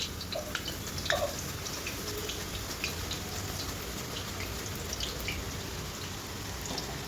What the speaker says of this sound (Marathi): यावर असे केळ असे चिप्स काढून घ्यायचे डायरेक्ट तेलामध्ये